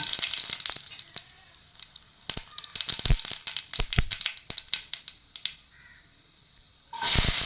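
Crackling, popping sizzle of mustard seeds and urad dal frying in hot oil, with sharp sporadic pops throughout and a louder hiss bursting up near the end.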